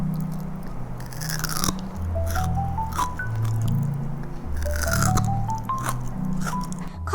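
Crunchy bites into a crispy convenience-store snack with a thin fried dumpling-wrapper layer, several close, loud crunches and chewing with faint musical tones underneath.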